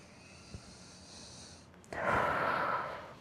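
A person lying on a foam roller during a back and posture exercise lets out a soft, close exhale, one breathy push of air that swells and then fades.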